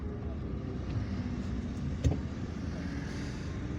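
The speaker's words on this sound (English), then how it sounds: "There is some traffic here on this road." Road traffic rolls past in Algiers at dusk during Ramadan, a steady broadband rumble of car engines and tyres with one brief louder knock, heard from inside a moving vehicle.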